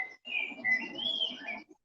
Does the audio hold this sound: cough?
no